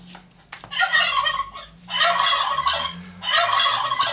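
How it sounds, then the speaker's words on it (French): Three bursts of rapid turkey gobbling, loud and close, with brief quiet gaps between them and no voices. "Dindon."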